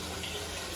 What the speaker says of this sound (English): I'm ready for the hose.